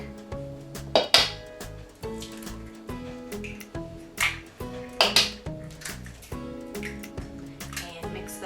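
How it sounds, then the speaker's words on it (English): Eggs added to a Victorian coffee cake mixture in a bowl, with several sharp clinks and taps against the bowl and soft background music running underneath. "Next, we're going to add eggs to our mixture."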